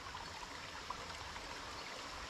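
Stream water flows out beneath a rail trail bridge in a forested valley, a steady, close rushing and trickling wash with no voices.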